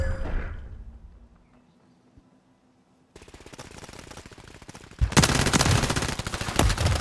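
Call of Duty gunfire erupts after a quiet stretch, first as a steady rattle of automatic shots, then as a louder, denser volley of close-range fire.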